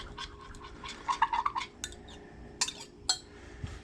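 Lure mixture stirred in a container for custom-coloured lures, giving a run of quick scraping clinks at middle distance, louder in a cluster, then a few sharper taps near the end, with no talk.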